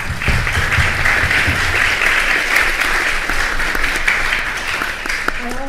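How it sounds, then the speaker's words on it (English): An audience at a city council candidate forum applauds, steady dense clapping holding at an even level throughout before easing slightly at the end. "let's give yourselves a round of applause"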